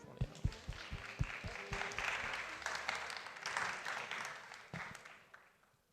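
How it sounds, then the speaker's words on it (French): An audience at an EdTech Day university event claps, scattered individual claps building into a brief round of applause that thins out and fades. "On peut les applaudir."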